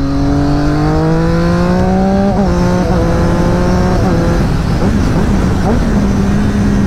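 Triumph Daytona 675 three-cylinder sport bike with a quickshifter, revving loud and close as it climbs through gears, the engine note rising and then briefly dropping with each quick shift.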